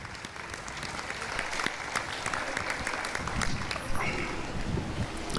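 Applause from a crowd, a busy wash of clapping that swells slightly midway, with some background voices mixed in.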